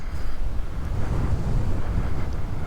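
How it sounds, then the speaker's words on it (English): Strong wind gusting outdoors beside an old schoolhouse, a continuous loud rumbling roar buffeting the microphone with no other sounds. "Ooh, that wind's whipping."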